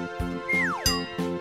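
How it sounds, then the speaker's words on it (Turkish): A mobile phone rings with a melodic electronic ringtone: repeated tonal chimes and a sweeping descending tone, loud and close, with no talking over it. "Telefonu çalıyor Necati."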